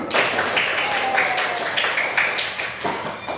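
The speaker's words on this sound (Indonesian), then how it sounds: "Tepuk 1, tepuk 2, tepuk 3, tepuk tangan." A class claps hands together in a rhythmic chant pattern, a steady run of broad, crisp claps in repeated groups with a slight pause between sets, filling the room at close range with no talking over it.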